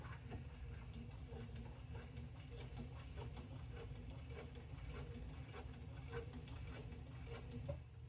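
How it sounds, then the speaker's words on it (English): A home sewing machine runs a straight stitch while piecing Accuquilt appliqué, giving a steady, rapid mechanical ticking that carries on evenly at moderate volume throughout, with no talking. "All right, so I'm just going to do a regular straight stitch"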